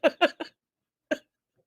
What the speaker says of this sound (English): Flatulence.